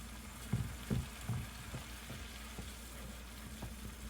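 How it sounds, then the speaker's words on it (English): Veggie stock simmers quietly in a pan during deglazing, with a soft, steady sizzle and a few light scraping knocks near the start, then a low bubbling hiss. "When you let the veggie stock simmer and deglaze, make sure you get all that stuff to stick to the side."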